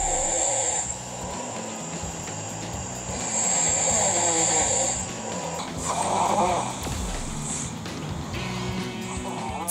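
A sleeping person snores in repeated rough, rumbling breaths that rise and fall in a slow rhythm, close by and fairly loud.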